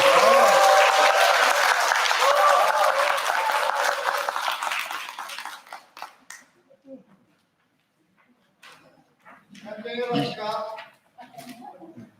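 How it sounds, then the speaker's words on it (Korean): Applause from an audience at an evening summer church gathering, loud dense clapping that swells at first and then thins out and fades, followed by quiet and a few voices speaking. "한 박수."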